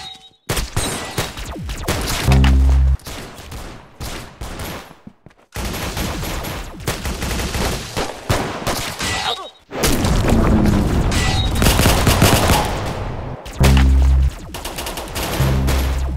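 Weapons firing in the Roblox game Arsenal: loud, dense bursts of gunfire and booming impacts in several long stretches with brief gaps between them, with no talking.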